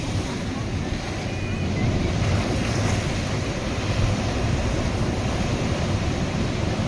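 Sea water surges into a beach resort at Mandarmani, a constant loud wash of surf mixed with heavy wind buffeting the microphone.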